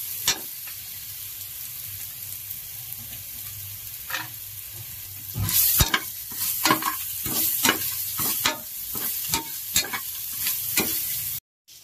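Cashews stirred into hot oil with ginger-garlic paste in a pan for vegetable pulao, a steady close sizzle broken by repeated scraping and stirring clatters, with no voices.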